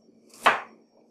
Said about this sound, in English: I'm gonna chop them in big slices here and throw them in there.